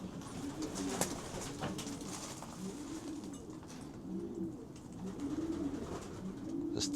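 Racing pigeons of Mark Evans Vandenbiel bloodlines coo in a loft, soft repeated throaty calls from several birds overlapping close by, with light rustling and scratching.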